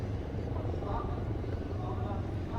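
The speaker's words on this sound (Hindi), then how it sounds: "और अब आप देखेंगे 2 एडवांस लाइट हेलीकॉप्टर्स, जिसके माध्यम से कमांडोज की मुख्य टुकड़ी यहाँ पहुंचेगी।" Two Indian Army Advanced Light Helicopters approach at an Army Day demonstration carrying commandos; a steady rotor and engine roar fills the scene at moderate distance, with a voice talking over it.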